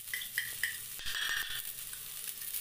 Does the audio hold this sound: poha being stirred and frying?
yes